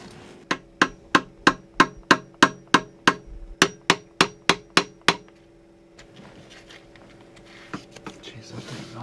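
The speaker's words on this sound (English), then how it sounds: "if I whack it, the hammer is the right tool" Hammer striking a tightly stuck boat part, about fourteen sharp metallic blows in a quick steady rhythm, loud and close, followed by quiet shuffling.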